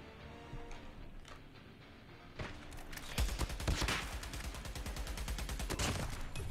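Gunfire in the mobile shooter COD Mobile opens with a few faint distant shots, then rapid automatic bursts grow loud and continuous for the last few seconds.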